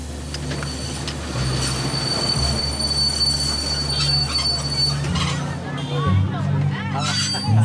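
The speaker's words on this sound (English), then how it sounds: "He can feel the train losing speed. And eventually, it comes to a complete stop." An old train on Congo's rough railway slows to a stop, its wheels squealing in a long, high metallic whine with heavy rumble beneath and a murmur of voices among passengers.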